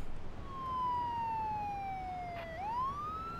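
A police car siren in the video game Beat Cop sounds a single long wail that slides slowly downward, then sweeps back up, loud and steady, with no talking.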